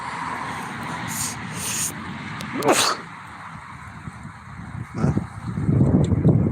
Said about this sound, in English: I gotta sneeze, y'all.